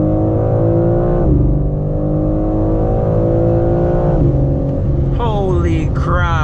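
A 2022 BMW M4 Competition engine revs hard and climbs in pitch, drops briefly at each gear shift, then pulls again, loud and close throughout, at night.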